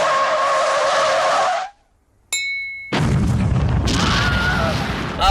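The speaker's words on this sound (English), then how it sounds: "The wheel exploded on the way back" A car wheel blows out on the road, with loud tire skidding and grinding that cuts to a brief silence, then harsh scraping and road rumble resume, close and intense.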